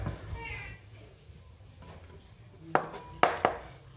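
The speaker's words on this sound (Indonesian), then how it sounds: "Pertama-tama kita iris-iris dulu bawang merah sama bawang putih." A knife slicing shallots and garlic on a cutting board for a crispy curly omelette, with a few sharp, close chops near the end after a quiet stretch.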